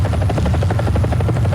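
A helicopter in a combat video game drones with a steady, loud, close rotor chop, a rhythmic pulsing thrum that continues unbroken with no voices.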